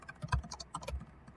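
Quick burst of keystrokes on a computer keyboard while typing a search, close and soft, several uneven taps over about a second with no talk.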